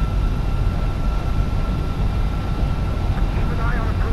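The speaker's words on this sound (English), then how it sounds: "You're cleared for takeoff immediately after Omega 11." Fighter jet engine roaring steadily during takeoff in the video game Ace Combat 7, a loud, continuous broadband rumble with a faint tonal whine throughout.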